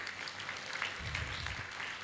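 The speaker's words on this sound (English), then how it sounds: "Can we have huge round of applause for Dr." Audience applause at a business excellence award ceremony in Gujarat as an honoree is called up, continuous clapping from a crowd that swells somewhat in the second half, with no speech.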